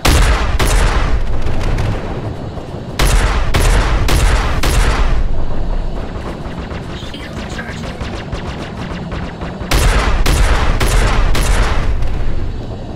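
Rapid bursts of space-combat gunfire from ships in the game Freelancer, loud and near, coming in dense volleys with brief lulls of softer background fire between them.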